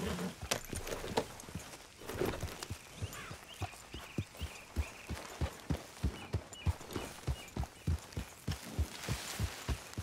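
Hooves of a horse clip-clop at a steady walking rhythm in Red Dead Redemption 2, around Rhodes, with a clear series of evenly spaced thuds close by and a faint ambient bed beneath.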